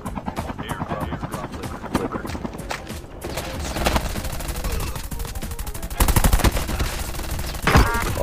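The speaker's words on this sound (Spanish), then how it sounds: "Por aquí adelante hay disparos." Rapid bursts of gunfire in Call of Duty Mobile crackle through the whole stretch, with heavier volleys near the end, mixed with busy game noise and some talking underneath.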